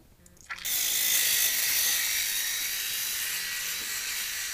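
Electric toothbrush with black bristles brushing teeth, starting with a soft rattle then a steady, loud high-pitched buzz held for several seconds, close to the microphone.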